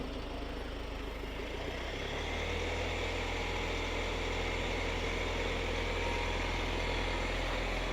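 A Kia Tasman X Pro ute's engine runs steadily while the vehicle reverses, a constant low hum and drone with no talking over it.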